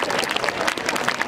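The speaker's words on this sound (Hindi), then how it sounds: "एक बार जोरदार तालियां" Audience claps at a school dance program, a busy crackle of many hands that stays steady and moderately loud for about a second, with faint crowd murmur underneath.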